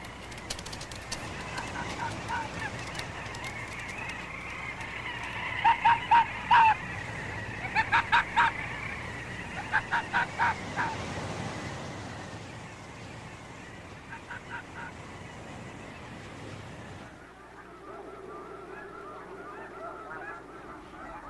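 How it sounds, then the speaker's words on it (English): Snow geese on the open tundra give repeated honking calls in short bursts, moderately near, over a breezy background; the calls fade out before the end. "On the tundra, the snow geese are trying to find something to eat."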